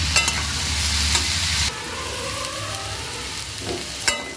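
Bitter gourd pieces stir-fried in a pan, loud close sizzling with scraping stirs, a heavier hiss in the first stretch that then settles to a steady crackle.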